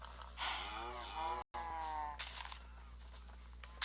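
Cartoonish Minecraft cow moos sound twice in quick succession, with a brief dropout between them and some clicks and crunches after.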